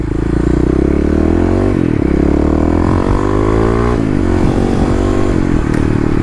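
A Kawasaki KLX351 dirt bike engine revs loud and close, its throttle rising and falling in surges, with clattering and scraping from the ride over muddy ground.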